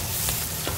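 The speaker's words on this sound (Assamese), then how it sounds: "পিঁয়াজটো অকণমান ভাজি আছোঁ" Onion fries in hot oil, producing a short, dense and continuous close sizzle with an even, crackling texture and no voices.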